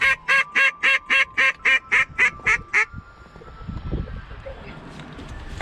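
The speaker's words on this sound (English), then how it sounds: "Three ducks right, up top." On a duck hunt, a rapid run of about eleven loud, evenly spaced quacks sounds close by, then gives way to rustling wind noise.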